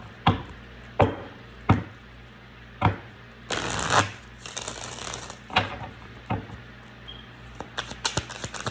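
Tarot cards shuffled in a series of crisp riffling bursts and sharp slaps, close and clear, with pauses between handfuls and a longer rapid riffle midway.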